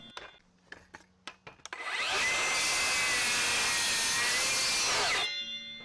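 A Milwaukee M18 Fuel 7 1/4-inch cordless circular saw rips through knotty wood in one loud, steady cut of about three seconds, preceded by a few sharp knocks and clicks and ending abruptly as the blade exits.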